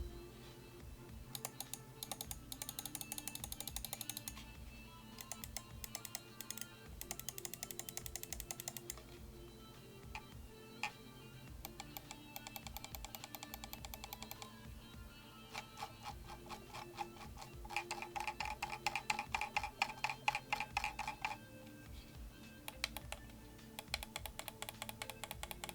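A computer mouse with Omron switches gives sharp, close clicks from its left and right buttons. They come in rapid bursts and steady runs, sometimes single and sometimes fast and repeated, against near silence.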